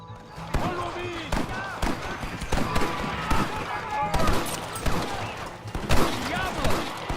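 Rapid scattered gunshots sound in a Red Dead Redemption shootout, sharp cracks repeating irregularly amid shouting voices and clatter.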